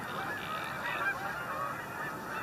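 A distant flock of geese honks continuously, the calls blending into a soft, steady chorus over low background rumble.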